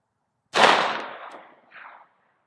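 A single loud, close blast from a Taurus Judge revolver firing a .410 shotgun shell outdoors, a sharp report trailing into a rolling echo that fades, followed by a softer second reflection.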